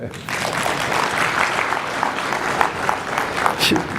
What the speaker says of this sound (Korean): 해주실 것 같으면 박수 치세요.